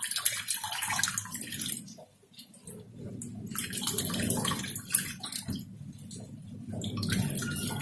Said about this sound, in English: just take the water, just filter out the leftover tamarind